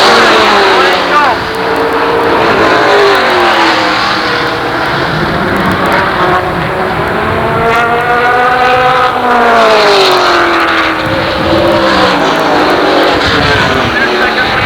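Super late model race cars roar around Jennerstown Speedway, engines rising and falling through the corners as they pass, loud and continuous beneath excited race commentary.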